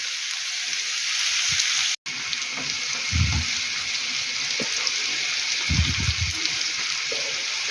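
Potatoes and onion frying in a pan give a steady, close hiss of sizzling, with a few soft low knocks from stirring or the pan. No one speaks.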